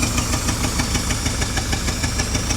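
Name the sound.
V8 International truck engine running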